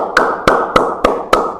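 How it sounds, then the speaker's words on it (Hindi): Five sharp hand claps in a steady, evenly spaced rhythm, close and crisp, with nothing else heard between them. "ताली क्यों बजाइए पता है?"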